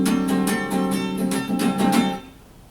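Guitar jamming at a reception, everyone playing their own clashing notes at once: a dense, steady wash of strummed tones with repeated bright attacks, fading out near the end.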